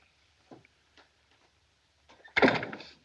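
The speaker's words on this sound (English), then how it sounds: "Close the door behind you." An interior door in a late-1940s film scene swings shut, with a few faint light clicks and taps first, then a single firm thud near the end, close and clear with no talk over it.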